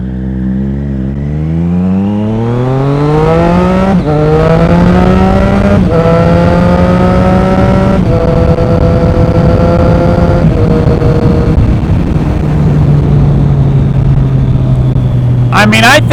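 A Triumph Street Triple motorcycle pulls away from a stop, its engine revving up through several gear changes in a steady rising and falling drone. The engine stays close and loud, with wind noise underneath.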